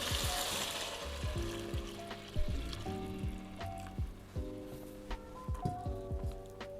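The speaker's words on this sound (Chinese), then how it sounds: "里面我会加入一点点的酱油，好，炒一下" Stir-frying with a splash of soy sauce in a pot, a soft sizzle under repeated clinks and scrapes of a utensil against the pot, close and moderately quiet without talk.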